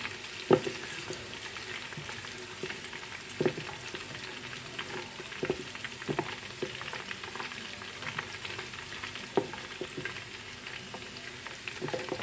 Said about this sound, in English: I'm going to add my onions to fry